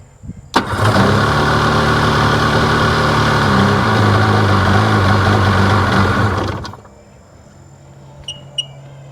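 A Sea-Doo 787 personal watercraft engine starts with a sharp catch, then runs loud and steady for about six seconds before cutting off abruptly, followed by a quiet background with a couple of faint clicks.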